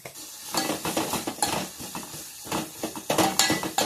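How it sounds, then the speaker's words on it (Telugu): Carrot curry being stirred in a pan after salt goes in, with repeated scraping and clinking of a utensil against the metal and a soft sizzle underneath, steady and close with no voices. "సాల్ట్ వేసుకొని కలుపుకోవాలి"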